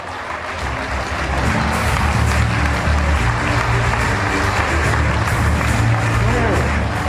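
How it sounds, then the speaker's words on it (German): Crowd applause at the award ceremony of a half-marathon and kids' run, a loud, steady wash of clapping that swells after the first second and holds, with crowd murmur underneath. "Ich bitte euch kräftigen Applaus für den,"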